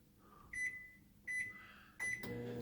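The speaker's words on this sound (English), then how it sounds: "This is just a little heating pad that's full of sand that we microwave for 90 seconds" A microwave oven heats a small sand-filled heating pad, sounding three loud chimes about evenly spaced over a low running hum, then a door or handle clunk at the end.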